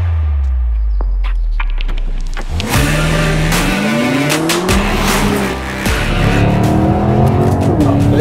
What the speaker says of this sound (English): That's that M Sport exhaust, of course, doing that. It really makes the engine sing.